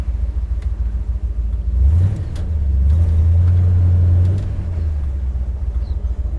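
A Dodge Challenger R/T with a 440 V8, six-pack carburetion and a manual gearbox rumbles deeply while driving, then revs up loudly and holds before settling back to a steady idle-like drone.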